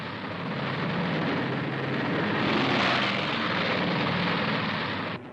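Droning multi-engine roar of a Boeing B-17G Flying Fortress bomber, loud and steady for several seconds, swelling slightly mid-way before cutting off abruptly at the end.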